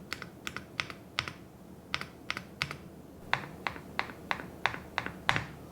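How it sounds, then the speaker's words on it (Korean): Keystrokes on a mechanical keyboard about two years old, including its spacebar, whose stabilizer wire rattles and needs relubing; a dozen or so sharp clicky taps in an uneven rhythm, close up with no talking. "얘는 안에 있는 스페이스 철심 소리가 좀 납니다"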